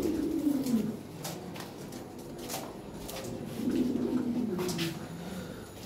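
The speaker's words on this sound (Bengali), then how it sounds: "হ্যাঁ, বিশাল সাইজের কবুতর।" Large Lahore pigeons of 2018 ring bloodline, a breeding pair with eggs, coo in low rolling phrases, two clear bouts with soft background noise and no talking.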